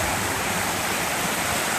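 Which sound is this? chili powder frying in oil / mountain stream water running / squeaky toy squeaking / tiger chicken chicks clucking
mountain stream water running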